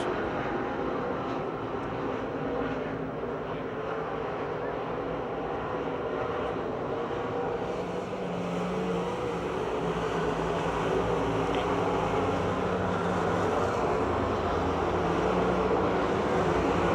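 Stock cars racing around Pennsylvania Motor Speedway near Pittsburgh in a late-race battle, a steady, dense roar of many engines held at constant loudness throughout, with no talk.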